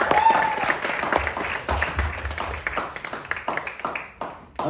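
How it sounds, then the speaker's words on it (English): A crowd at a community talent show in Moss Side applauds the night's performers, giving a strong round of clapping with cheering mixed in that gradually thins and fades toward the end. "Can we give a round of applause to everyone that performed tonight one more time?"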